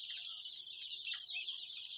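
A dense flock of young Sonali chickens on a poultry farm cheeps constantly, a shrill overlapping chorus of high chirps without pauses, heard fairly close and with no voices.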